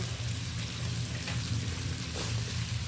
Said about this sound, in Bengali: এবার আমি এরই সাথে ডাঁটা আলু বেগুন কষিয়ে নেব।